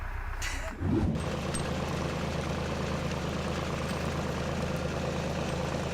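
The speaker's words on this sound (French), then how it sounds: "Sacrée machine, hein? Machine de guerre. Tracteur de vigneron." A vineyard tractor's engine idles in a steady, low, continuous rumble close by, starting just after a brief bump of noise, with no talk over it.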